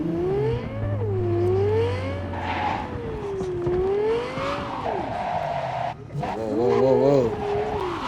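A Bugatti in a video game drives hard with a loud, wavering engine whine and sustained tire squeal as it skids and slides, the pitch swooping up and down throughout.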